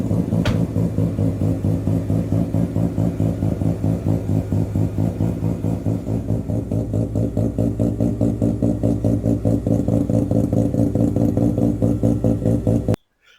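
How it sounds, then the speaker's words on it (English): A Mazda RX-7 rotary engine idling, its rapid, lumpy, pulsing exhaust note steady and loud up close, continuing evenly before cutting off abruptly at the end. "A rotary idling, there's no better sound."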